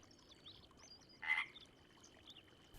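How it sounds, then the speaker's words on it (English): Frogs croak at dusk by a lake in wild Portugal. One clear, loud croak stands out mid-clip over faint, scattered background calls. "At dusk, their croak can be heard throughout the entire lake."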